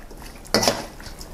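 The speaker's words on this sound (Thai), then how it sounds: "คลุกเคล้าให้เข้ากันนะครับ" A short burst of utensils scraping and clinking in a bowl, a brief stir of a Thai chicken-feet salad with sliced onion and tomato against dishware in a quiet kitchen.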